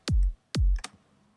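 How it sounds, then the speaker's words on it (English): Two punchy electronic kick drum hits, evenly spaced, each with a deep booming low end, followed by a brief lighter tap. "and then the kick drum"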